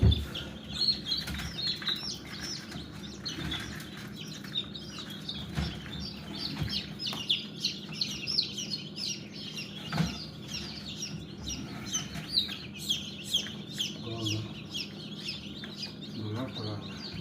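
Chickens and young chicks kept at home, a dense, continuous chorus of high peeping from many chicks with occasional clucks and wing flaps nearby.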